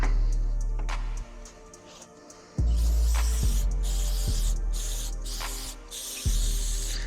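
Cleaner sprays in long hissing bursts onto KTM 85sx dirt bike parts outdoors, loud and close, with short pauses between blasts over a low background rumble.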